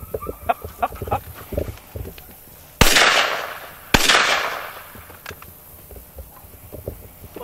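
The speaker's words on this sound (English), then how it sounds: "This time I'm going to double shoot." Two loud, sharp gunshots about a second apart, fired outdoors during gun dog training with doves, each with a long decaying echo over faint background noise.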